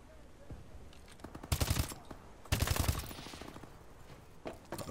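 Gunfire in Call of Duty Advanced Warfare multiplayer, with two loud bursts of rapid shots followed by scattered single shots over a background of game noise.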